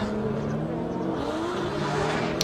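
BMW drift race cars accelerate hard side by side past the finish line at a drift event, a continuous loud engine roar with rising revs and tire noise throughout.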